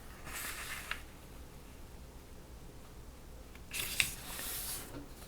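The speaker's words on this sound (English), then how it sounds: "You start by folding in half." A 6-inch square of kaleidoscope paper is folded in half for an origami heart, giving two brief crisp rustles and creases, one early and one near the end, with quiet in between.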